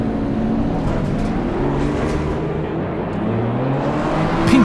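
A car engine in a racing video game hums and revs with a tonal, shifting drone, rising near the end.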